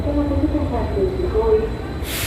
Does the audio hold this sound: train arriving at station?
yes